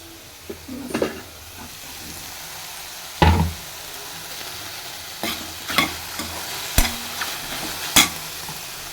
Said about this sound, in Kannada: ಇದು ಚೆನ್ನಾಗಿ ಫ್ರೈ ಆಗಿದೆ ಇವಾಗ ನೋಡ್ತಾ ಇರ್ಬೋದು ಫುಲ್ಲು ನೀರು ಫ್ರೈ ಆಗಿದೆ ಆಯಿಲ್ ಮಾತ್ರ ಇದೆ